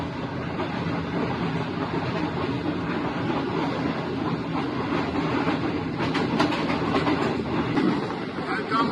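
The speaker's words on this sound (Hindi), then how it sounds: "कुछ ही देर में मिल्लत एक्सप्रेस 18 डाउन अप्रोच करेगी।" Millat Express passenger train approaching along railway tracks, a steady rolling rumble with rail clatter that grows slightly in the second half, continuous and fairly close.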